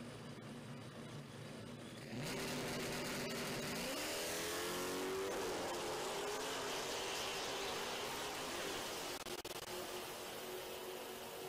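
A Hemi pickup truck and a 2019 Dodge Challenger launch at a drag race, a sudden sustained roar of engines rising in pitch as they accelerate away, heard from a distance and steady to the end.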